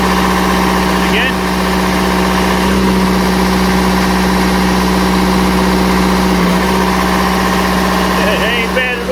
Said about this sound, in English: Let's hear how this motor behaves.